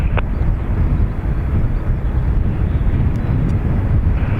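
A Ryanair airliner takes off from runway 28 right at Dublin Airport in a 15-knot wind, a loud, sustained low rumbling roar with gusty wind buffeting the microphone throughout.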